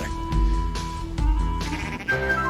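Sheep bleat in the Nintendo DS video game Cool Herders, a couple of short bleating calls cutting through busy game music.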